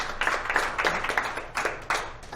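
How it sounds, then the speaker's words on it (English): A modest audience at a talk on dharma gives brief clapping: uneven, moderately close claps in a short burst, with no other sound on top. "Can we have a clap here?"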